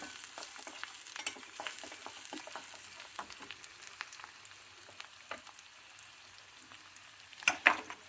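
Vegetables fry quietly in a pan, a soft steady sizzle with light crackles, ending in a few louder clinks of stirring.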